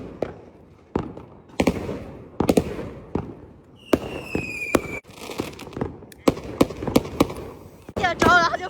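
Lantern Festival fireworks and firecrackers go off outdoors in a rapid series of sharp bangs and crackles, with a whistling rocket in the middle and fizzing bursts near the end, while people talk nearby.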